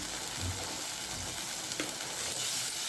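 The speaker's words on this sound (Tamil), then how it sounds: "இதெல்லாம் பச்சை வாசனை போகிற வரை வதக்கணும்." Green egg phal ingredients sautéing in a pan, Chettinad style, with a steady broadband sizzle and a brief utensil scrape partway through; no voices.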